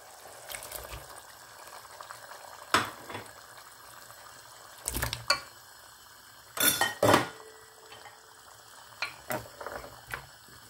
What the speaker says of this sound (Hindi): अब इसमें मैं ये गोश्त भी डाल दूंगी